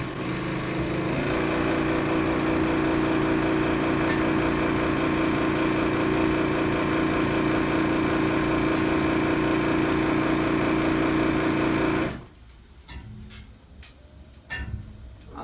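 A refurbished straw braid sewing machine with a repaired needle bar holder runs in a loud, continuous mechanical whir with fast rhythmic ticking, then stops abruptly, leaving a few faint clicks and knocks.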